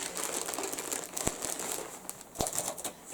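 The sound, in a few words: opening a parcel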